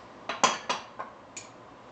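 Leftover-dinner ingredients, including red onion, lime juice and hot sauce, being mixed in a bowl: four or five close, crisp utensil clinks against the bowl in quick succession, fading in a quiet room.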